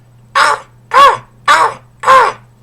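A person imitating a crow or raven caw, four loud, evenly spaced harsh caws close to the listener over a faint low hum.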